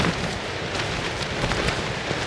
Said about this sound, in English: Yeah, still get rain.